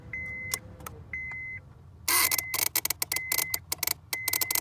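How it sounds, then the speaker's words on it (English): A 2007 Honda Civic's starter relay clicks on and off as the ignition is turned slowly, with dash chimes first and then rapid irregular clicking and buzzing bursts, close and loud. "That's the relay going crazy. On and off, on and off, on and off."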